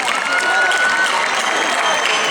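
Concert audience applauding loudly at an outdoor show in Gragnano, dense steady clapping filling the whole stretch with a faint murmur of crowd beneath.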